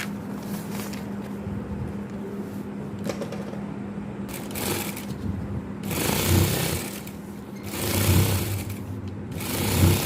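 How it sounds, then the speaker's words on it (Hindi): Sewing machine stitching organza onto the sides of suit fabric for a sleeve design, a steady close mechanical whir with rhythmic needle clatter that grows louder in short bursts. "ये मैंने ऑर्गेन्जा इसके ऊपर फिक्स कर लिया साइडों पे सिलाइयाँ लगा के।"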